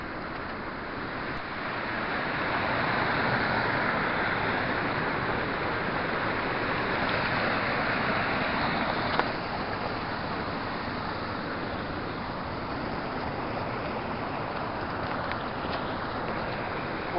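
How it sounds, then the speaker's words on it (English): Water rushes over a broad river waterfall near Sheilhill Bridge as a steady, even wash of noise that holds at one level throughout, with no talk. "The water's all spread out over this waterfall."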